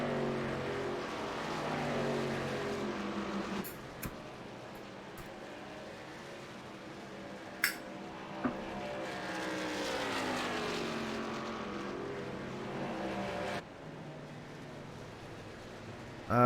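A race truck engine in a sim racing truck series game at Indianapolis, revving steadily and climbing and falling in pitch as it laps the track during qualifying, with a few brief clicks and a sudden drop near the end.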